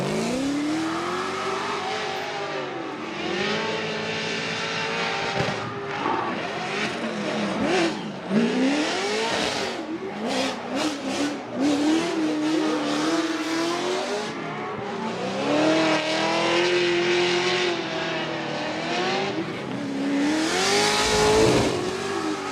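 A Formula Drift Pro Spec car in the Top 16 championship battle, its engine revving hard and rising and falling continuously with tire squeal, loud and close throughout with no talk.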